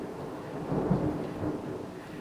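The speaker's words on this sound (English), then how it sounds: "I don't know if you can hear the rain, but it's really coming down right now" Heavy rain pours down steadily during a thunderstorm, with a low rumble of thunder swelling near the middle, continuous and fairly close, with no talking.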